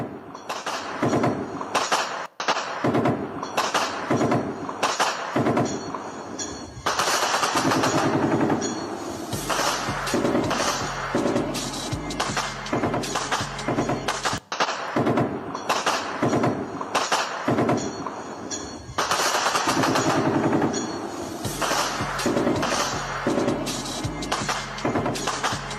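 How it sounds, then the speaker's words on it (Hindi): Rapid bursts of gunfire from a ceasefire violation by Pakistan near Pahalgam, loud, dense and continuous, with crackling volleys that pause briefly and then resume in heavy rolling clusters. "आप सुनिए किस तरीके से गोलियों की गड़गड़ाहट जो है वो सुनाई दे रही है"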